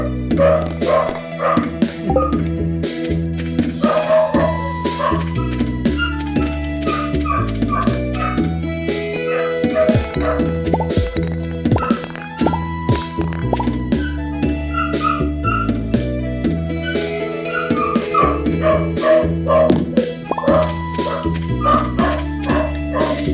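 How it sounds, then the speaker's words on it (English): A pet dog barks and yips repeatedly indoors for a long stretch, loud and close, with whimpers in between and a steady music bed underneath. "Sorry for my doggy barking like that."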